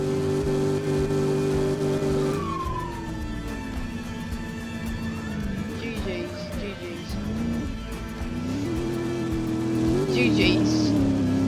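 A donk car roars and accelerates hard during a street race in southwest Florida, its engine note rising and shifting through gears, loud and close, with someone talking over it.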